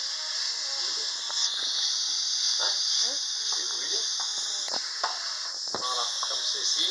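Filet mignon sizzles steadily in a hot pan for Sichuan-style cooking, a continuous bright frying hiss with scattered crackles and stirring scrapes, close and fairly loud, with a voice talking intermittently over it.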